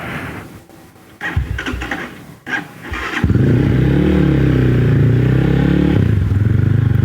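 A homemade engine clatters and scrapes as it tries to start, then catches and runs loud and close with a steady rough drone, its pitch rising and falling as it revs up and settles.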